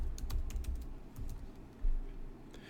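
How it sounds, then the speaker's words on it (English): Keys clatter on a computer keyboard in a quick, close burst of taps, then a pause and a few more strokes, fairly faint and without speech. "we can type in the word incident to find it."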